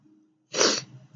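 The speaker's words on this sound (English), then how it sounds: "you guys are about to see my famous sneezes." One sharp, loud sneeze bursts out after a brief quiet moment, close and forceful, followed by a soft breathy tail.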